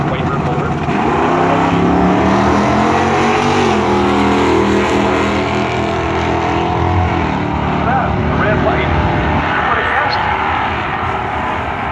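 A Pontiac Trans Am drag car stripped for weight makes a record quarter-mile run, its loud engine roaring and shifting through gears close by across the whole stretch, with some talk underneath.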